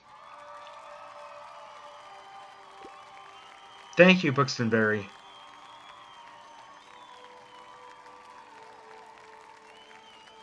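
Crowd applause in the video game Tiny Bookshop, a faint steady wash of clapping and cheering heard under a brief spoken line, continuing quietly afterward.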